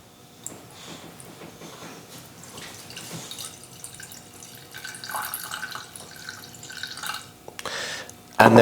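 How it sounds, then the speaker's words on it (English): Water trickles and drips into a container of double cream being made up to 200 grams in a kitchen, a faint splashing pour under quiet background clatter, ending in a sharp knock. "Make it up to 200 grams with the water."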